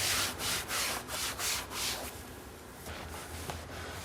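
Firm, rhythmic rubbing as new trim on a BMW F10 M5 is buffed hard by hand, five quick even strokes followed by softer, slower wiping, close and dry.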